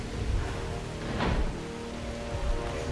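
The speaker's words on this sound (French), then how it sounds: "En plus il pleut." Rain in the video game Jurassic World Evolution pours as a steady, dense wash of noise with a brief swell in the middle, moderately loud and without speech.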